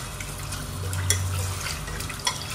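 Rice being rinsed in water in a home kitchen, with soft continuous running and splashing water, a couple of small clinks, and a low hum underneath. No voices are heard.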